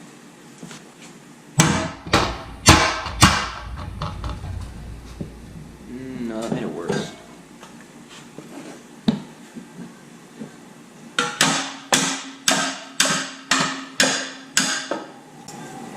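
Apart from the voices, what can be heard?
hammering bent metal part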